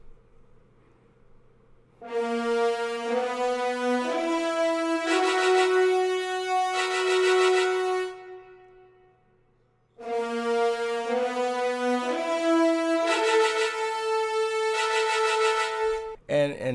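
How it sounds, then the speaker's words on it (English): Orchestral sample-library trumpets play sharp repeated stabs over sustained horn ensemble chords in two dramatic phrases with a brief pause between, loud and brassy, dark villain-style hybrid scoring. "And then if we add our trumpet stabs,"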